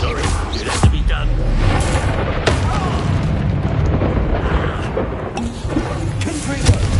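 Spell explosions from Bombarda and Confringo in the video game Hogwarts Legacy, heard as dense, continuous booming blasts with sharp cracks layered on top, loud and close, while a voice talks over them.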